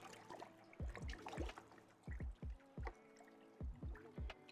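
Carbon being poured into a sugar wash for small-scale distilling, heard as faint glugging, dripping plops and trickles in irregular bursts, close but quiet with no talking.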